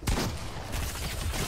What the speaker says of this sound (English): Nope, I shot him.